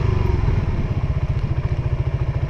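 A manual-transmission motorcycle engine running close by while shifting up through the gears, a loud steady rapid putter with a rhythmic low thump, no voices.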